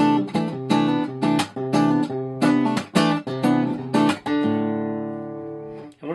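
An acoustic guitar plays measures 91 and 92 of a live song, with rhythmic strummed chords broken by short muted gaps, ending on a ringing sustained chord, clear and alone.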